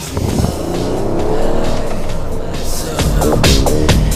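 A car pulls away with engine revving and tires squealing, then brakes hard with ABS, giving a stuttering, pulsing screech; loud and close, with a voice talking over parts of it.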